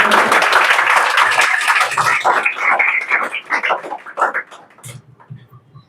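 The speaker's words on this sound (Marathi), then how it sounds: "खूप जोरदार टाळ्या झाल्या पाहिजे." Live audience applause at a Marathi talk event, loud, dense clapping at first that thins into scattered, uneven claps and then dies away.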